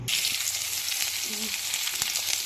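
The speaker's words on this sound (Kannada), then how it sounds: "ಇವಾಗ ಒಗ್ಗರಣೆ ಹಾಕ್ತೇನೆ" Spices hit hot oil for a round-brinjal gojju, giving a loud, dense crackling sizzle that runs without a break, close up, with a brief clink near the middle.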